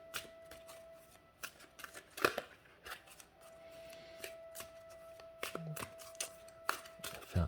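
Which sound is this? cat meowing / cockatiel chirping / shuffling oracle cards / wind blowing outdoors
shuffling oracle cards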